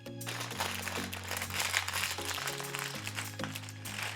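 Foil being crimped around a folded fish parcel of barramundi with tomatoes and olives, a close crinkling and crunching that runs steadily over a low steady hum.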